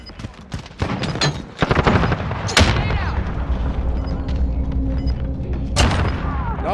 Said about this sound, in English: A fucking grenade?